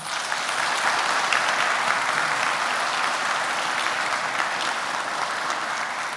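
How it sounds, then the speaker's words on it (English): Steady, even applause from a large audience at a high school graduation ceremony, a continuous dense clapping wash held at moderate loudness for several seconds. "Let's give them a round of applause."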